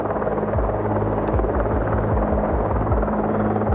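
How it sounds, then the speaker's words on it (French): A helicopter drones with a steady low rotor throb, loud and continuous, holding close overhead for the whole stretch with no voices. "maintenant, j'entends des hélicoptères"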